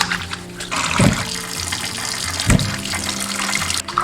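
Cured pork and sausage are scrubbed with a steel wool pad under running hot water at a sink, a steady gushing stream with brief louder splashes, close by.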